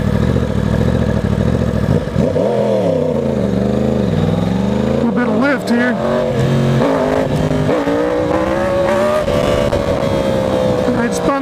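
A 2020 Yamaha R1 sport motorcycle pulls away hard from a stop sign in A mode, the engine revving loud and close and climbing in pitch through rising shifts, with wind and road roar continuous throughout.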